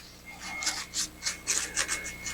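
Surface rust is sanded off a trike by hand, with about seven quick rasping strokes in an uneven rhythm, close and moderately loud with no talking.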